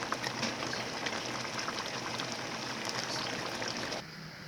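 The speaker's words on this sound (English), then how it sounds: "Now the water is boiling." Water boils steadily in a pot with a soft, continuous bubbling hiss that stays even throughout before dropping slightly at the end.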